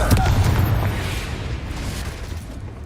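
A Confringo blasting curse explodes in Hogwarts Legacy, a loud, rumbling boom that starts strong and rolls on as a dense, sustained low roar through the clip without fading much.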